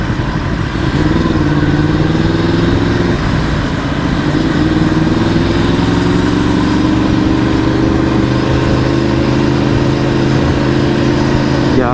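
A Yamaha R1 sport motorcycle engine runs steadily close by, a loud continuous drone with rising and falling pitch as it revs through gears while riding.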